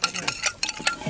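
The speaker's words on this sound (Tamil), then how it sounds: "அந்த 6 முட்டையை வந்து இப்போ நல்லா அடிக்க போகிறோம்." Six eggs are beaten in a bowl with rapid, light clinking and sloshing strokes, close and moderately loud.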